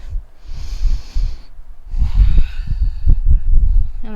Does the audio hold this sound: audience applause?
no